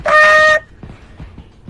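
A short, loud, horn-like blast lasting about half a second, like a foghorn, comes from a chicken call and is followed by quiet background rustle.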